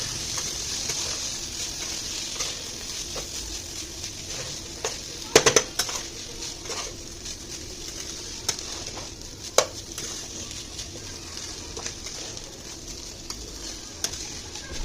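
Rice frying with onion in a hot pan, with a soft constant sizzle broken by the scrape and clink of a spoon stirring it around.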